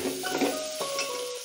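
Two medium diced potatoes stirred in hot oil in a pan for spinach-potato sabzi, with a soft sizzle and scraping of a spoon against metal, close and steady.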